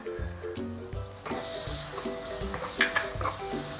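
Shiitake mushrooms stir-fried with oyster sauce in a hot pan, giving a close, steady sizzle broken by repeated scraping and clinking strokes of a spatula against the pan, with no voices.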